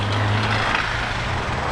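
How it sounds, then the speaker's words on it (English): A car with a rattling noise heard from inside, a steady low engine and road rumble with broadband noise running unbroken through the short stretch. "Why is the car making that noise for?"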